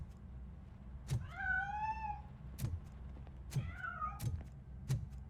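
Two drawn-out, wavering meows from a cat in RoboCop: Rogue City, close and distinct, separated by sharp clicks and thumps, with no talking.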